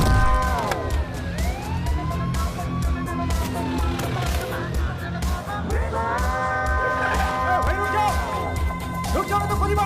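An ambulance siren sweeps up and down continuously over dense, busy background noise, loud and close throughout.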